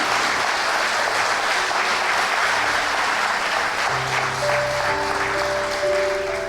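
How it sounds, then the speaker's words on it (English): Sustained, loud audience applause at a motivational speaking event, a thick continuous roar of clapping from a large crowd with soft sustained tones rising beneath it toward the end. "Give them a round of applause, please, and the whole staff."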